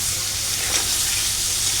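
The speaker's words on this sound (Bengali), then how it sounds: "এবার একটু ভালো করে নাড়াচাড়া করবো।" Spices with turmeric frying in a pan for chutney, stirred briefly: a close, even sizzle with a soft scrape and no talk.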